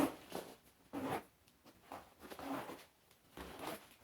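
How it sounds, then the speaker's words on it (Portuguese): A zipper on a fabric thermal lunch bag with two sliders is pulled open or closed, four or five short rasping strokes in a quick, uneven rhythm, close and fairly quiet, with no talking. "O fechamento é com zíper e tem 2 cursores."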